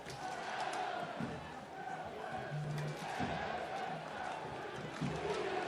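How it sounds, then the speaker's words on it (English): Atlanta United supporters fill a stadium with steady crowd noise during a preseason match against Nashville SC, rhythmic clapping pulsing within the roar, some whistle-like tones rising above it. "Atlanta fans starting to impose their noise on this stadium. Listen to the clap."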